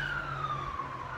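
Emergency vehicle siren wailing steadily outside a RuneScape convention venue, a continuous high tone sliding slowly downward over a constant low rumble.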